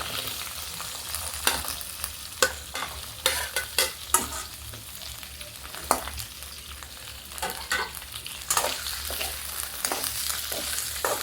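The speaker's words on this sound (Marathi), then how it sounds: "हे आता आपण परतून घेऊया." Paneer and onions sautéing in a pan, a steady sizzle broken by frequent scraping stirs of a spatula against the pan, close and fairly loud with no talking.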